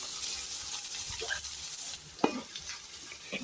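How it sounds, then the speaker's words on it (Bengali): Onions fry and sizzle in a pan in a village-style kitchen: a steady, moderate hiss with occasional scraping and clinking from stirring, including one sharper knock partway through. "পেঁয়াজ দিয়ে নিলাম, পেঁয়াজগুলো ভেজে নেব।"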